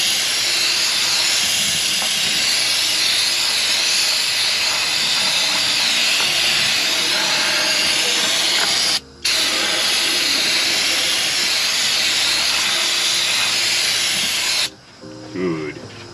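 Steady, loud hiss of a water spray rinsing out the valley of a 2002 Pontiac Firebird's GM 3800 3.8L V6 during top-end assembly, continuous and close, cutting off briefly twice before stopping.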